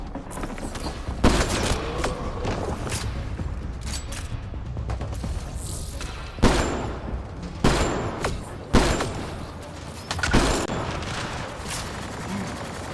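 Rapid gunfire bursts from the video game Mass Effect Andromeda, played on Insanity difficulty, with repeated sharp shots and louder blasts near 1, 6.5, 8 and 10.5 seconds over steady combat noise.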